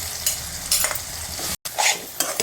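Onions and tomatoes sautéing with chili powder in a pan, a soft, steady sizzle broken by several scraping stirs of the spoon and one very brief dropout.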